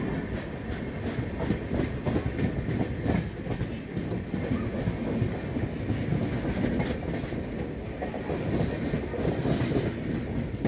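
Godavari Express rolling into Eluru railway station toward platform 3, running about thirty minutes late: a steady loud rumble of carriages with continuous clickety-clack wheel noise and occasional squealing, heard close and without speech.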